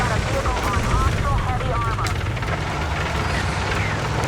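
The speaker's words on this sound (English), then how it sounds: "There's another helicopter chasing him." A helicopter in the Battlefield 6 video game whirs and drones steadily beneath a player talking, with a constant rotor rumble and scattered game effects.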